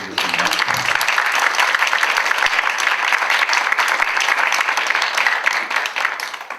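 A student-election policy forum audience breaks into dense, loud applause for the candidates, sustained steadily across the whole stretch with no pause, a few louder claps standing out near the beginning.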